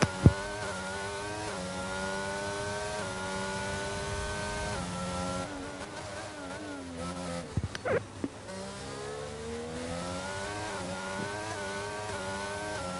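A race car engine drones and shifts pitch on an onboard lap of Spa in a racing video game, revving up through gears with a couple of sharp knocks midway, loud and continuous without talk.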